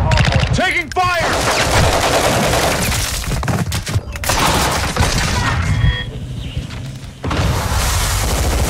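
Rapid automatic gunfire and explosive bursts from a Call of Duty Modern Warfare II multiplayer hardpoint match, loud and dense throughout with brief gaps, under game voice callouts.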